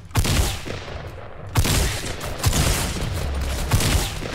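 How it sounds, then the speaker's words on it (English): Rapid bursts of gunfire in Fortnite ring out repeatedly over a continuous, dense game soundscape, with sharp loud shots landing at several points across the clip. "You can shoot through that really quickly"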